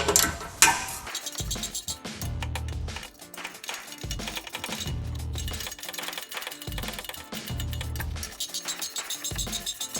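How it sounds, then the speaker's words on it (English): A standard wrench loosening rear exhaust bolts on a Honda Civic, quiet metallic clicking and ratcheting in repeated short bursts, close and faint with no talk. "I'm just going to be using a standard wrench"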